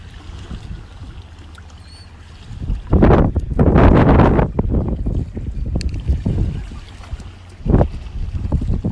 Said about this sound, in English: It's a big old boat.